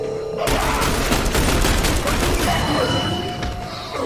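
Dense, loud fusillade of gunfire in The Bureau: XCOM Declassified, breaking in suddenly and continuing for several seconds, with combat voices calling out over it.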